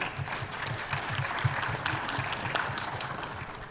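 Audience applause at a political event in Makassar, steady dense clapping at moderate level with a low rhythmic thumping underneath, continuing throughout.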